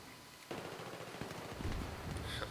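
A QBB-95 light machine gun fires in Battlefield 3, heard as a sustained, muffled burst of rapid shots with a rough, rumbling wash behind it that starts abruptly and keeps going.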